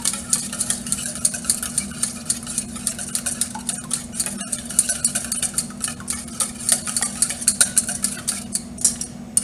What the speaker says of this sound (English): you're just going to whisk it up until as much of it is mixed as possible